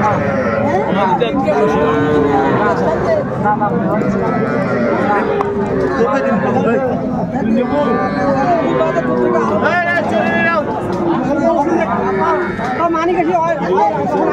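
A young bull calf moos repeatedly at a busy rural cattle market in Dinajpur, its calls rising over constant close chatter and bargaining voices of buyers and sellers.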